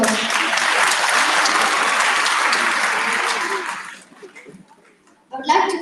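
Audience applause fills a hall after a solo Indian classical dance performance at an arangetram, loud and sustained for about four seconds before fading, then a brief renewed burst of clapping at the end.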